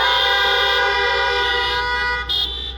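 Several car horns honk together at an outdoor political rally in Great Falls, Montana, sustained overlapping blasts that hold steady before one briefly cuts out and resumes.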